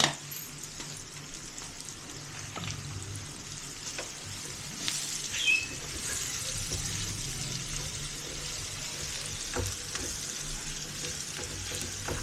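Onions sizzling and frying in a pan for achari chicken, a steady close crackle with occasional stirring scrapes throughout, no talking.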